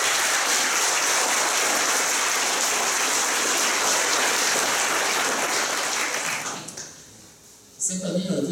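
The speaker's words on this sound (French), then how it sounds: "Alors on va commencer par les applaudissements de finissants." Dense, sustained applause from a large crowd at a college graduation ceremony, loud and steady for several seconds before fading out, followed by a voice beginning to speak.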